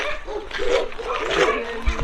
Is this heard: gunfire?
no